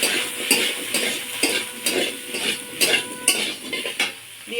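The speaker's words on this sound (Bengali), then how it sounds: "আর এই একই তেলে এঁচড়টাও একটু নুন হলুদ দিয়ে ভেজে নেব।" Jackfruit frying in oil with salt and turmeric, a steady close sizzle broken by repeated bright scraping stirs of a spatula against the pan, with no voices.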